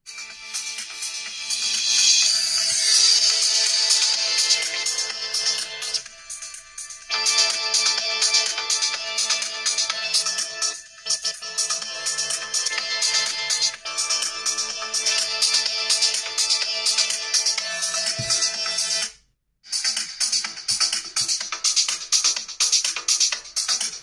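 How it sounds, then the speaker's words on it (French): Music plays from the dual loudspeaker of a Cubot King Kong 5 Pro rugged phone for a long continuous stretch. It sounds thin and treble-heavy with little bass, and it cuts out briefly near the end before resuming. No one talks. "Maintenant, on va écouter ce fameux double parleur, soi-disant une world premiere."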